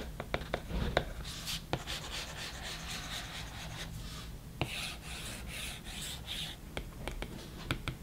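A stylus scratches across a 2020 iPad 8 fitted with a paper-like screen protector, producing close, dry rubbing and scraping strokes with small taps, continuous and faint, with no talking.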